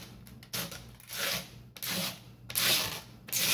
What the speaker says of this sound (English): out of my cutter and then I scrape that nicely